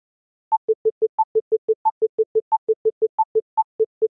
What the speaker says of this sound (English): So I'll run the simulator, and I'll turn on the metronome.